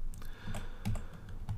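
Computer keys are pressed in a short run of quiet, close taps, several separate clicks over about a second and a half.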